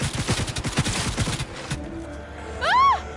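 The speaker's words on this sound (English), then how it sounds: "Because it actually just does burst fire" Rapid bursts of gunfire in Cyberpunk 2077, a burst-fire weapon cracking in quick repeated volleys for about a second and a half, followed by quieter game ambience and a short rising synthetic whoosh.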